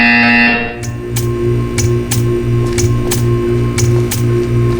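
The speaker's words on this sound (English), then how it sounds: "You will hear a buzzer." A buzzer from the video game Portal 2 sounds loudly at first, then gives way to a rapid series of regular electronic pulses over a steady hum.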